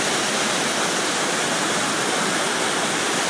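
Water rushes steadily into a hydrocyclone during testing, entering tangentially to build a vortex; a loud, continuous broadband roar like a waterfall, unbroken for the whole stretch with no voices.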